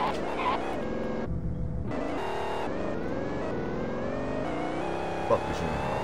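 Engine of a track car in a Roblox game, revving hard and running up through short rising pitch sweeps with abrupt shift-like breaks, loud and continuous, with a brief thump near the end.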